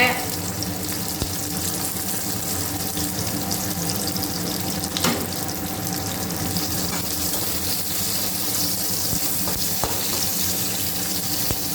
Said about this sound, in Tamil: அரிஞ்சு ஊற்றி இதை நல்லா வதக்கிங்க